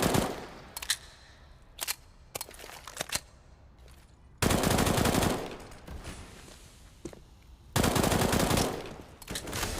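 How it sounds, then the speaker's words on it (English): Gunfire in Counter-Strike on the Overpass map during a pro match, scattered single shots and short bursts at first, then two long sustained volleys of rapid automatic fire with grenade blasts mixed in, loud and close. "Shots exchanged towards short and grenades as well."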